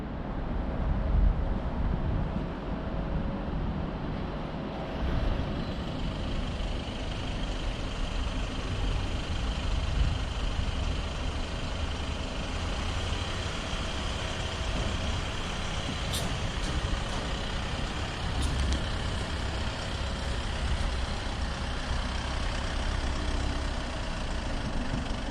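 A car elevator carries a new white Volkswagen Passat GT down to the ground floor at a dealer's delivery bay, a steady loud mechanical drone and rumble running unbroken throughout with no talk.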